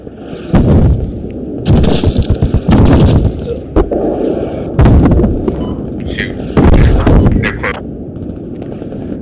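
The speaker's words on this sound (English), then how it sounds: "I'm setting up my machine gun" Loud bursts of machine gun fire in the video game Squad, in a wooded setting, several separate heavy rattling volleys with short pauses between them, close and booming.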